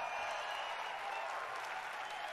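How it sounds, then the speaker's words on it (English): Large crowd applauding in the Microsoft Theater at the Microsoft E3 2019 gaming conference, a continuous, even wash of clapping heard faintly from a distance. "Applause."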